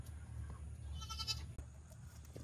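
Goats on a small farm bleat with a short wavering call in the middle, over a steady low rumble and background farm noise.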